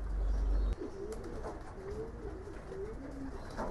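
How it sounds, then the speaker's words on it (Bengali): Racing pigeons coo softly in a loft trap during training, several low rolling coos spread across a noisy background with a brief thump near the start, with no talk. "তো কবুতরগুলো ভদ্রভাবে ট্র্যাপ হচ্ছে"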